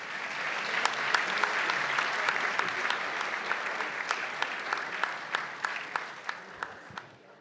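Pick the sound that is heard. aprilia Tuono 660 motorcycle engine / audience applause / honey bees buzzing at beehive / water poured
audience applause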